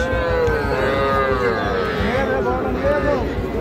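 Small heifer calves low at the Aftabganj cattle market, drawn-out moos blending into a loud, busy crowd with people talking nearby.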